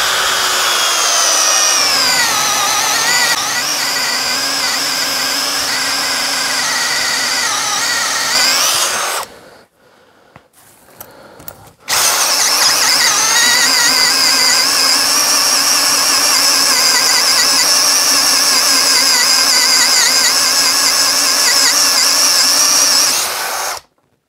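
A WORX WX177 Switchdriver cordless drill bores into a block of thick oak 8 cm deep, its motor whining loud and steady, dropping out briefly in a short pause, then resuming for a long continuous second run.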